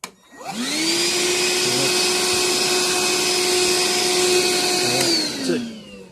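Hercules cordless 1/2-gallon wet/dry shop vac from Harbor Freight, 6 lb with a 5 amp battery, sucking up debris: a loud steady motor whine spins up, holds evenly for about five seconds, then winds down.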